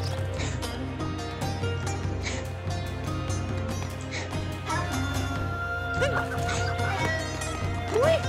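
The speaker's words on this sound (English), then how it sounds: "How the hell am I supposed to get this bird?" Bird clucking in the video game Super Mario Odyssey, repeated short clucks over a steady game soundtrack, with brief laughter nearby.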